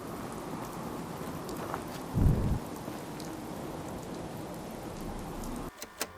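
Rain pours steadily in the Fallout 4 video game, a continuous hiss with a short low thunder rumble near the start and a few soft knocks at the end.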